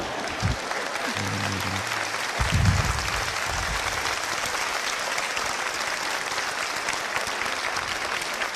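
A crowd applauds with steady, dense clapping that carries on throughout, with a few brief voices and thuds near the start.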